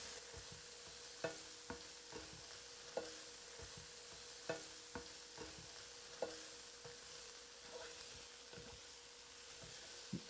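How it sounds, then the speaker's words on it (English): Onions and celery are stirred with browning pork in a hot pan: a steady low sizzle under repeated scraping strokes and spoon taps every second or so, close and fairly quiet, without talking. "We just want to stir them around until they start to give off a little bit of liquid."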